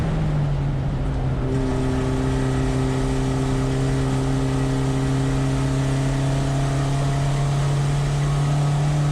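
A VW Jetta GLI super touring car's engine drones loudly and steadily on the track at Thunder Hill Raceway, holding a strong even tone that climbs slightly as it accelerates, with no voices over it.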